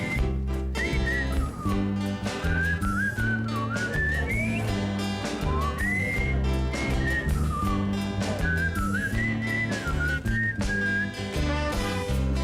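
A performer whistles a lively melody over a full live band at a calypso tribute show. The whistling is clear and sustained, rising and falling in short phrases above steady backing instruments throughout.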